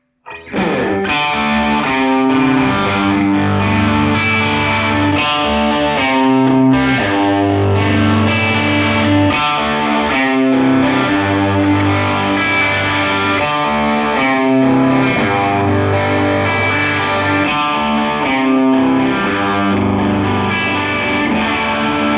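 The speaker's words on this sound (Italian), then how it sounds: "Proviamo ora anche una configurazione con un suono più crunch" An electric guitar plays chords and riffs through a crunchy, moderately overdriven amp tone via a Dragoon XS 1x12 speaker cabinet, loud and sustained throughout with no speech.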